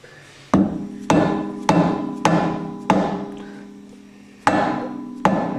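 Hammer blows drive the clutch tower of a Ski-doo 850 snowmobile into place, about eight sharp, ringing metallic strikes spaced roughly half a second apart, close and loud with a pause midway.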